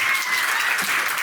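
Applause for a flower girl at a wedding reception, a brief burst of dense, even clapping from a room full of guests, steady and fairly close.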